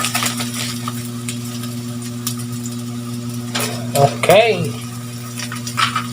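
Already-fried galunggong fish is sautéed in a pan, with intermittent scraping and stirring clatter, soft sizzling and a few utensil knocks against the pan over a steady low hum, with a brief spoken word.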